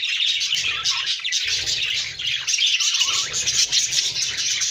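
Pet birds in a home aviary chirp and tweet in the morning, a dense, continuous chorus of bright calls up close with no talking.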